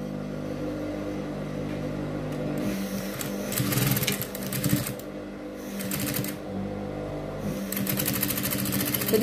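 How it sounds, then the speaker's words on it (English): A sewing machine stitches a half-inch seam on boys' school uniform shorts, its motor whirring in steady bursts that start and stop several times, loud and close, with no talk. "i'm going to go ahead and stitch half an inch"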